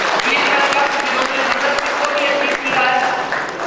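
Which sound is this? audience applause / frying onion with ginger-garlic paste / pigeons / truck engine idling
audience applause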